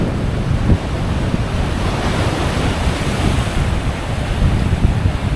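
Ocean waves wash steadily onto a rocky shore in Japan while wind buffets the microphone, a loud, continuous roar of surf with no voices over it.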